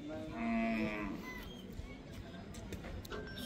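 A bull gives a long, loud low moo near the start, up close, at a village gathering where bulls stand around; people talk through the rest of the stretch and footsteps or hooves clatter faintly.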